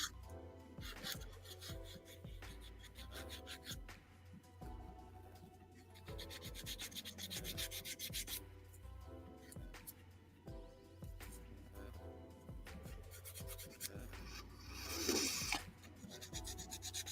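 Scraping, rasping strokes of sanding on a small model door frame for a fireworks stand hobby build, steady and close with brief pauses, loudest near the end, no talk.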